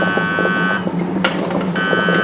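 A Rational SelfCookingCenter combi oven sounds a steady electronic beep tone in a kitchen, holding for nearly a second, breaking off, then resuming, with light clatter underneath.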